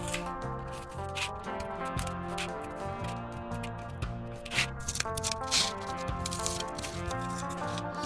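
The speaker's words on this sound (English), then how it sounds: "We are going to cut the outline first." Scissors snipping through old cardboard to cut out an outline, a steady run of close, dry crunching cuts over background music.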